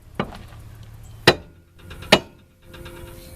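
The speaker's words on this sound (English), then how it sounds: "Sometimes it just takes a really hard swing to get things loosened up." Sharp metallic hammer blows against a stubborn rear upper control arm on a Honda Accord, three distinct loud strikes spaced about a second apart over quiet garage ambience.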